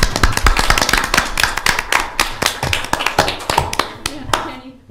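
Applause at a county board of commissioners meeting, a room of people clapping in dense, uneven bursts that stay close and loud, then tail off near the end, with some voices mixed in.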